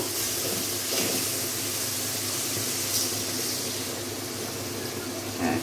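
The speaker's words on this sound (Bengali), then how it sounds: "এবার একটু পানি দিয়ে দিব।" Water poured into spiced masala frying in a pan for a Bengali fish curry with onion and tomato, a steady hissing gush that runs on without a break.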